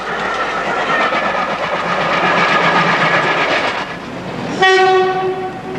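A train passes close by on the Liverpool and Manchester line, a loud steady rumble and clatter that sounds a long horn near the end.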